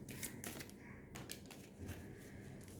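Tarot cards shuffled in quick bursts, crisp papery riffling flutters that start and stop, close up and fairly quiet with no voices.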